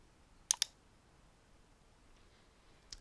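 A computer mouse gives a quick pair of clicks near the start and one faint click at the end, against near silence.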